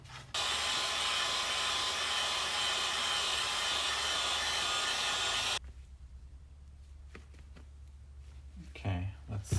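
A heat gun on low roars with a steady, loud blowing hiss for several seconds, then cuts off, leaving quiet handling noises and faint movement.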